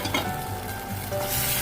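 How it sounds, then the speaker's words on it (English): Tomato egg sauce bubbling and sizzling in a pan, a close, continuous frying hiss with a brief scrape of stirring and a light utensil clink. "So I'll just allow it to cook for 10 minutes."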